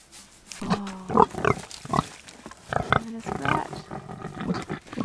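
A trusting free-range homestead pig rubs itself against a scratching tree, giving a run of close, irregular grunts and snorts at moderate volume.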